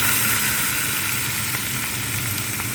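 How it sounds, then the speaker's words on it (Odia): Rohu fish frying in a pan gives off a dense, continuous hissing sizzle, steady and close throughout, with occasional faint pops and spatters rising from the oil. "ଦେଖ ହଁ ଏବେ ଆମେ ମାଛ ଭାଜିବା।"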